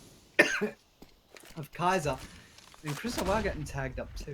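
A single sharp cough from a gaming-tournament commentator, heard between bursts of close-up casting talk.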